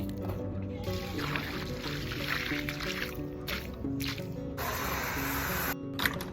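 Fresh water being poured out for dogs on a farm, a continuous splashing, spraying rush that runs close and steady with a few brief breaks.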